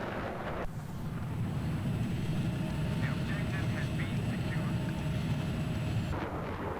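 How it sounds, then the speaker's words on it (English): A jet aircraft takes off in Battlefield 3 with a loud, sustained engine roar and high whine that holds steady for several seconds before cutting off. "So you'll notice I see that jet taking off"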